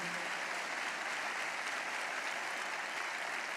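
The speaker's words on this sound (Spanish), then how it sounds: "dale un fuerte aplauso al Señor" A congregation at a Spanish-language church sermon applauds the Lord, with steady, dense clapping that fills the room evenly and continuously, without any talk over it.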